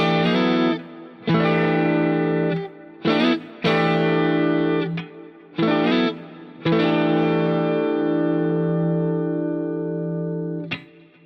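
Electric guitar playing neo soul chords through effects, several strummed chords with quick slides between them, sustained and ringing with a long final chord, played alone without talk.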